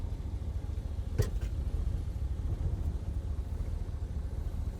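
A steady, low engine rumble comes from an old, once-abandoned International pickup truck with weak brakes as it drives, with one brief sharper rattle partway through.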